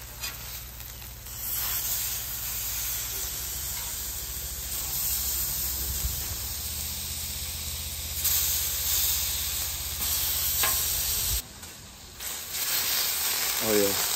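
Chicken tortellini in dressing sizzles loudly and steadily on a flat-top griddle, a continuous hiss with brief dips as the food is flipped, while a person talks over it.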